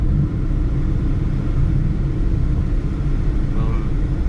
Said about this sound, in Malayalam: അപ്പോൾ ഗായ്സ് വണ്ടികൾ കയറി തുടങ്ങിയിട്ടുണ്ട്.